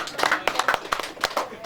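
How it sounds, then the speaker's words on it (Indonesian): Scattered hand claps from an audience at a Karang Taruna village gathering on culinary tourism, honoring Pak Awi; sharp irregular claps over about two seconds, with voices talking underneath. "Tepuk tangan untuk Pak Awi ini ya"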